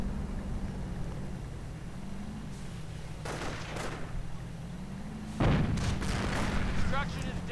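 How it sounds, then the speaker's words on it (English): Artillery barrage in a World War II real-time strategy game striking a Panzer Lehr base, with several distant booms and bursts followed by a louder, closer impact near the end, set under a continuous low game rumble. "Artillery being called in the Panzer Lehr base"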